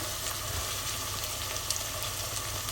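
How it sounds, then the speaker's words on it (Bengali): Onion and garlic frying in hot oil for a dried-fish and greens curry, giving a steady, even sizzle that holds at close range throughout, with no pauses and no voices. "তেলটা গরম হয়ে গেলে আমি দিয়ে দেব পেঁয়াজ আর দিয়ে দেব পুরো আস্ত একটা রসুন কুচি"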